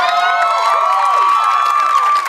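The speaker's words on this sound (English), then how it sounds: "your audience isn't even laughing, they're just cheering" A late-night comedy show's studio audience cheers with a sustained wave of high, whooping voices, loud and unbroken, fading only at the very end.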